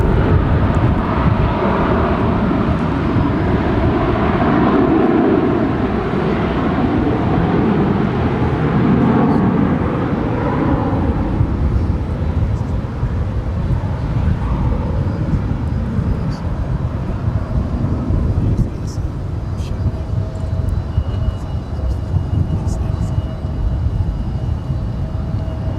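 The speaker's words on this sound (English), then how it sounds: "Cleared for departure on 18 left is American Airlines Flight 2459 heading to Los Angeles, LAX" An American Airlines Airbus A321 departs runway 18 left at Dallas Fort Worth airport with a loud, sustained jet engine roar that peaks early and then gradually fades as the plane climbs away, with no voices.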